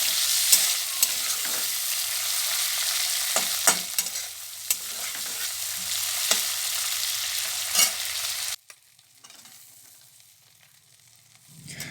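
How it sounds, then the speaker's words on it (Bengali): Fish coated with salt and turmeric frying in mustard oil in a village kitchen pan, a loud continuous sizzle broken by stirring clicks, then dropping to a faint hiss for the last few seconds. "হালকা লবণ হলুদ দিয়ে মাছগুলোকে ভেজে নিচ্ছি।"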